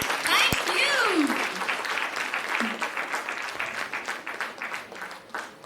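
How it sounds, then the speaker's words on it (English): Audience applause and clapping after a debate on nurses in healthcare, a sustained patter of many hands; a voice speaks briefly over the start before the clapping carries on alone. "Clapping रुकना नहीं चाहिए."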